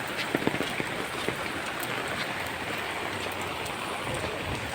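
Heavy rain pours steadily onto an umbrella and the street during a downpour with flooding, a dense close hiss with scattered sharper drops and no voices.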